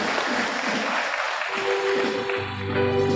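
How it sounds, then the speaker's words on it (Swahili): A church congregation at a Kikuyu service breaks into dense, loud clapping that fades after about a second and a half into sustained musical tones. "Si tupigie Bwana makofi na ngimi wega mno."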